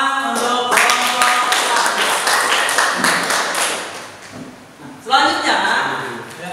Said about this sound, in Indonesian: Masih tepuk tangan untuk kelompok.